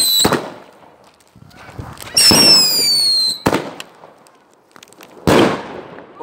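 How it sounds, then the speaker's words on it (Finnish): Two firework rockets go off on New Year's. Loud close bangs and crackling bursts mix with a rising whistle, separated by short quiet gaps. "Nyt tulee 2 rakettia."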